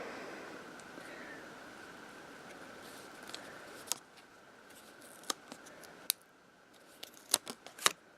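Scissors snip off the end of adhesive tape from an ATG gun while paper treat bags are being made, giving a few sharp, close clicks and snips over a steady hiss, with no talking.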